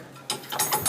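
Several short bursts of clicking mechanical ratcheting from a large keg wrench, up close and loud, with no talking.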